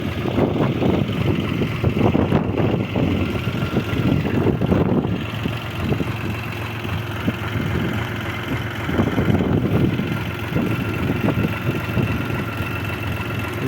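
A Belarus MTZ-82.1 tractor's diesel engine idles steadily and evenly, a close, constant low rumble with no voices over it.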